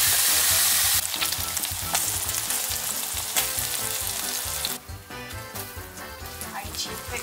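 French fries sizzling in hot oil, a dense, loud crackling hiss that runs continuously, with a brief drop in intensity partway through, and no talking over it.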